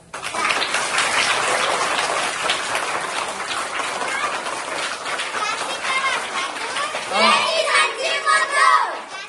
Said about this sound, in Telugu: క్లాప్స్ కొట్టండి, క్లాప్స్.